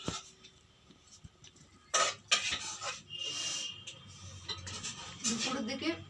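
A metal spoon clinks and scrapes against a bowl of date jaggery payesh, giving a few sharp, close taps and light rubbing noises over a quiet room, with soft scattered clatter throughout.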